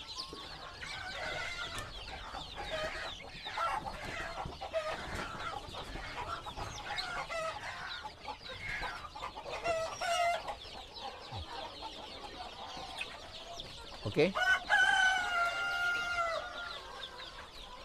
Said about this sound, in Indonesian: Nah, ini ayam-ayam yang tanggung.